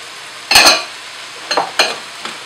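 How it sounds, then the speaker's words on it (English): Onion tops, zucchini and red peppers tumble into a hot pot for a one-pot couscous, giving a loud burst of sizzle followed by a few softer stirring scrapes and sizzles. "We're going to add some of our other veggies. So this is the tops of those bulb onions and the zucchini, and our 2 red peppers"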